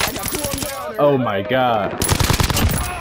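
Rapid automatic gunfire in a shooter video game, bursts of shots at the start and end around a brief shouted voice in the middle.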